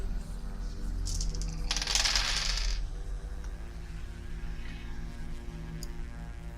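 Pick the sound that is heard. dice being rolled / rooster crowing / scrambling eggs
dice being rolled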